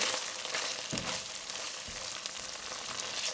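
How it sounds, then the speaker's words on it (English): Mexican chorizo fries in a hot pan for a keto cauliflower soup, giving a steady dense sizzle and crackle throughout with a couple of soft thuds, close and alone. "We're gonna go ahead and dump our Mexican chorizo in here."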